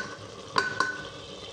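Prepared paste goes into a pot of korma with two quick close clinks of a spoon against the metal pot, then a light sizzle underneath, with no voice.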